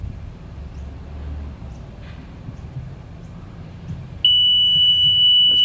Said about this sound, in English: As you can see, the siren goes off